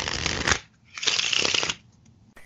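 Playing cards are shuffled in two quick riffle bursts, a short one then a longer crisp rippling run, close and alone with no talk.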